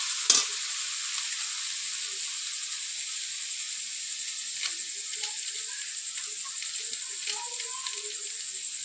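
Soft, steady sizzling of spices with salt, turmeric and red chilli powder frying in a pan, a faint hiss with occasional small crackles and a stir, no talking.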